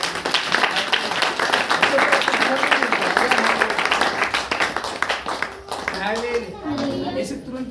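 Church congregation at a Saturday power meeting clapping hands in praise to God, a dense run of rapid claps over several seconds, with voices and a speaker talking through and after the clapping.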